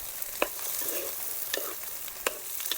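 A spoon stirs lima beans into a sizzling pan mixture of dried fish, beef and chembu. A few soft scraping strokes sound over a faint, steady fry.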